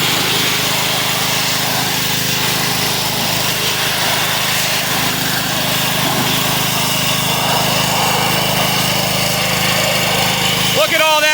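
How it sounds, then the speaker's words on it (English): A warmed-up pressure washer sprays grime off the deck of a Husqvarna lawn mower, a loud, steady engine drone and hissing spray running unbroken and close; a voice talks over the noise. "now that the pressure washer's warmed up, we're going to go ahead and clean off the mower deck"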